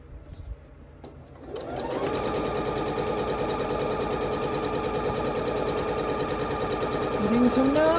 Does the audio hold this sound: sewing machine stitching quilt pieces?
yes